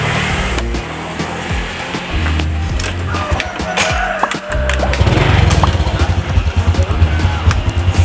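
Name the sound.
motorcycle engine started and running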